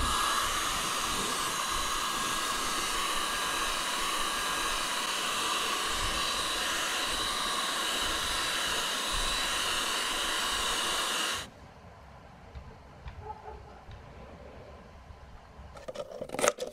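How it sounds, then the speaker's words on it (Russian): A construction heat gun blows hot air onto a thin plastic bottle, a loud steady roaring hiss for about eleven seconds before cutting off to quiet handling noises. "Утолщать этот материал я буду с помощью строительного фена."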